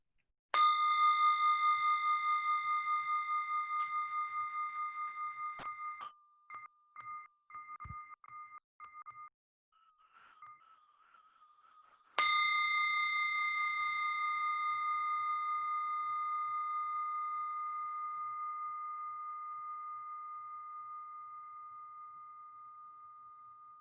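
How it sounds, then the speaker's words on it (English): A meditation bell rings twice, each strike clear and bright with a long, slowly fading resonance, with a brief patch of soft tapping tones between the two rings. "focus your mind to this bell sound and follow the sound"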